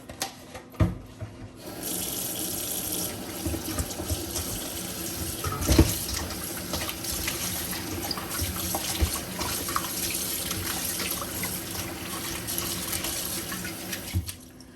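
Kitchen tap water running steadily into a sink while raw lamb chops are washed before soaking in white vinegar, a continuous splashing hiss with occasional rubbing and clunks, close and without talk.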